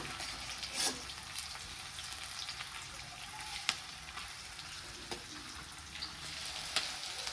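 Onion fries in hot oil in a home kitchen, a faint steady sizzle with occasional soft clicks of stirring, heard alone without talk.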